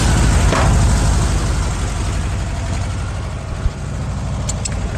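A 1971 VW Beetle with a freshly rebuilt engine drones steadily as it climbs a high-altitude road, a loud, even low rumble under eased throttle, with no talking.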